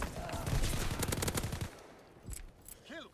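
Rapid machine-gun fire from a strafing run in the Call of Duty video game rattles loud and close for about a second and a half, then a couple of scattered shots sound and a short voice is heard.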